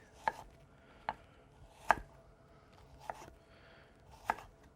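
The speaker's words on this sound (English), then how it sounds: "And from there we hold our pile of carrot, and then slicing those just as we did with baton," Knife cuts through a pile of carrot, slicing it finely into julienne on a board: five crisp, separate chops about a second apart, close and quiet, with no talking.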